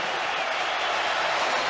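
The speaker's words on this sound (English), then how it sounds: "goes to milk the applause" Crowd applause at a UEFA Futsal Cup match after a Benfica goal, a dense, steady wash of clapping and cheering filling the arena, loud and continuous throughout.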